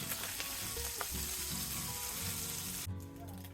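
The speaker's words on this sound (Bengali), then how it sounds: "অপর পাশটা ভালো করে ভেজে নেব।" Small guchi eels (baim fish) frying in hot oil in a pan, a loud, dense continuous sizzle with crackling spatter that drops off abruptly near the end, heard close and alone.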